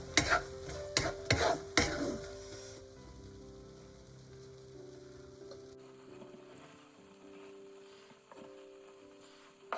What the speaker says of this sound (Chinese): 加玉米， 炒匀后即可以出锅了